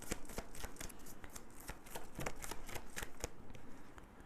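Tarot cards riffled and shuffled by hand, a rapid string of close, crisp flicks and slaps at low volume, with cards being drawn, no speech over it.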